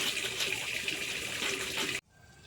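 Tap water runs steadily over fish being washed, a close, even gush for about two seconds that cuts off abruptly, leaving a quiet room.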